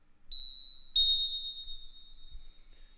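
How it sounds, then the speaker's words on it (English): A synth bell patch played in Reason 12 strikes twice in quick succession, each bright, pure ding ringing out with a long, slowly decaying sustain in otherwise near silence. "So we're gonna start with a bell."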